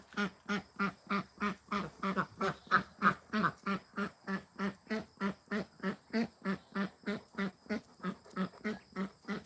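A hen duck quacks in a long, steady run of evenly spaced, fairly loud calls, repeating rhythmically with little pause.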